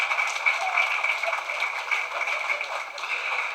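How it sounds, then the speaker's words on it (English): A studio audience applauds for Tony, a contestant on a television quiz show, with a steady, dense clapping that holds at even strength throughout and no voices over it. "let's give Tony a round of applause"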